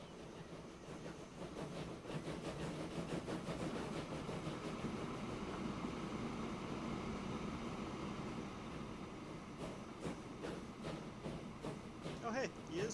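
Triple-headed trains in the video game Transport Fever 2 rumble steadily with a low mechanical drone and rhythmic clatter, continuous and fairly quiet throughout, with a few faint higher clicks near the end.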